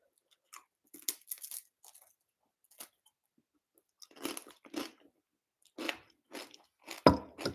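A person chews crunchy food close to the microphone in irregular bursts of crisp bites and mastication separated by brief quiet gaps, ending with a louder crunch.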